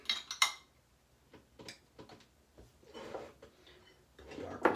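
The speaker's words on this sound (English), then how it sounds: "Dry off the brush. Put the brush on its base." Shaving brush set down on its base during a wet shave, several short light clinks and taps scattered among soft handling noises, close and quiet.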